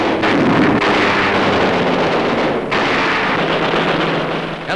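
Heavy explosive blasts and rumbling gunfire boom close and loud as an aircraft tower is blasted in a wartime air raid, with sharp new bursts hitting amid a continuous roar.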